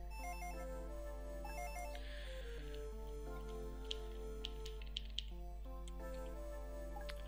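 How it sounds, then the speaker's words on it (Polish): A telephone rings in Dragon Ball Z: The Legacy of Goku II as a repeating electronic chiptune beep pattern over quiet game music, with soft ticks throughout and no talking. "Dobrze, dzwoni telefon, idziemy odebrać."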